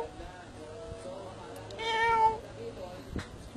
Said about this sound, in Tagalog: Doon ang pusa.